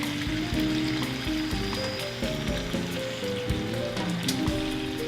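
Diced onions sizzling in a hot pan over filet mignons for red wine braised steak, a dense crackling hiss with popping spatters, close and continuous.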